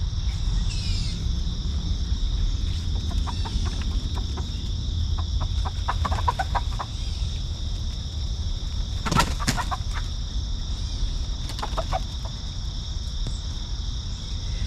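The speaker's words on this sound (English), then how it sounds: "The young chickens are out already, but the older ones, it takes them longer to get out of their nest." Chickens cluck and chatter in short scattered bursts over a steady high insect drone and low rumbling background, with a brief flutter midway.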